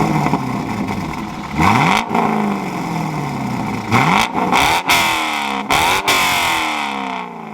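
A C5 Corvette's LS1 5.7-liter pushrod small-block V8 revs hard in close, loud bursts. The pitch rises and falls as the throttle is blipped several times, and there is no talk.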